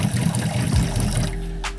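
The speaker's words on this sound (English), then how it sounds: "And yes, I have water running." Tap water runs into a tiny sink in a camper van conversion and drains into a grey water tank below, a close, steady splashing stream that keeps going throughout.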